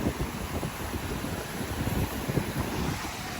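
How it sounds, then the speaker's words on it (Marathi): Sea waves wash onto Ladghar beach near Dapoli at sunset, a broad, steady roar of surf with wind buffeting the microphone and no voices. "आज लाटा पण आहेत"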